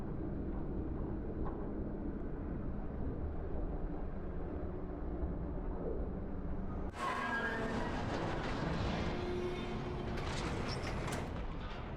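A tram in the climbing video game White Knuckle breaks loose and falls off its tracks, a steady rail rumble giving way around the seven-second mark to a loud, broadband metallic crash and grinding that continues to the end.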